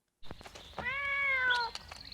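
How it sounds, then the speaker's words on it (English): A single drawn-out cat meow, a close, clear sound effect in a zombie film, rising and holding for about a second over faint background noise. "That's the same cat sound from Stardew Valley."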